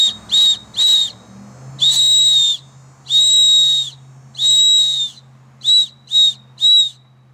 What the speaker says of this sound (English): You can also do Morse code with this whistle.